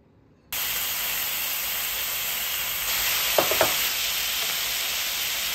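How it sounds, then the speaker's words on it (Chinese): Marinated beef and red chili strips hit a hot wok for beef chow fun and sizzle loudly and steadily after a sudden start, with a few quick scraping stirs partway through. "倒入腌制好的牛肉，翻炒至牛肉变色，倒入红辣椒丝翻炒片刻"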